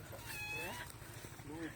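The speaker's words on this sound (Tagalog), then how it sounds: "Hala, may pusa." A cat meowing in a rural farm setting, brief and fairly faint, one or two short meows under nearby people talking.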